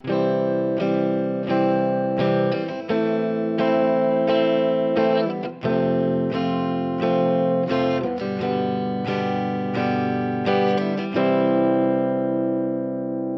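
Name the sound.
chord progression played on instrument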